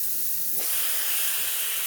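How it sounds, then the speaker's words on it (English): Espresso machine steam wand on a Meraki integrated grinder machine, a steady broadband hiss that swells slightly after a moment and continues throughout, close and fairly quiet. "What's the steam wand like?"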